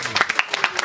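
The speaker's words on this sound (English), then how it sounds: "Can we have a huge round of applause for him?" Brief burst of audience applause for a film's lead actor at a premiere event, dense overlapping claps close and loud for under a second.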